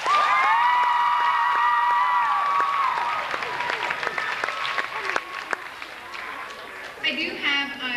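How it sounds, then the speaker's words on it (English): Applause and cheering from a crowd at a middle school pep rally honouring sports teams, loud and sustained, with whoops and shouts over dense clapping before it thins toward the end. "give them a round of applause"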